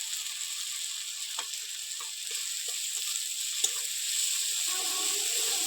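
Spices for a katla fish kalia curry sizzle steadily in hot oil with a bright, continuous frying hiss and a few soft clicks of stirring, close and alone without talk.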